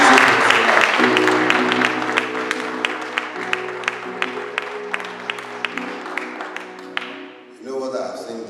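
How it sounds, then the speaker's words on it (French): A congregation claps for Jesus at a church anniversary service, with steady rhythmic clapping under sustained organ or keyboard chords that fades out near the end. "Let's clap for Jesus."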